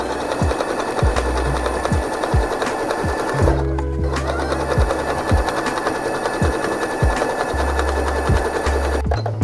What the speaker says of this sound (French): dernière étape, le surfilage avec la machine à coudre